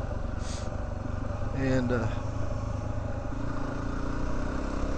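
A motorcycle rides a remote back-country road on a Mexico-to-Canada trip, its engine a steady loud drone with wind rush throughout; a voice speaks briefly over it.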